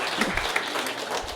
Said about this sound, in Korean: 오늘 이분들을 위해서 박수 부탁드릴게요